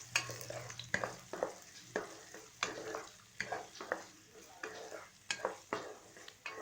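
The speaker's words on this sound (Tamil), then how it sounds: "இது ஒரு 2 மினிட்ஸ் நல்லா ஃப்ரை பண்ணிக்கோங்க" Chopped onions frying with garlic in a pan for egg fried rice. A steady sizzle runs throughout, broken by regular scraping strokes of a spoon stirring roughly once a second, close and fairly loud.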